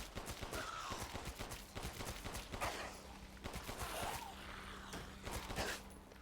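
Rapid pistol gunfire from the video game Resident Evil Village, a dense run of sharp, close shots fired in quick irregular bursts over steady background game sound, with no talking.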